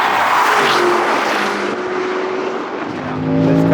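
Range Rover Sport SV and Lamborghini Urus Performante SCV12 accelerating hard side by side in a drag race, a loud sustained engine roar with rising whine filling the whole stretch, no voices.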